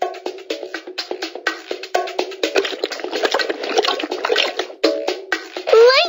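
A pony drinks from a watering trough in a Dora the Explorer children's video game, heard as a rapid series of cartoonish gulping and slurping water sounds, ending with a rising whinny-like tone.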